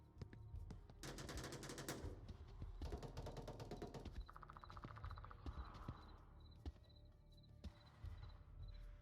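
Rapid bursts of automatic gunfire in the VR shooter Onward during a competitive team match, with several rattling volleys, mechanical clatter and scattered single shots, heard alone without talk.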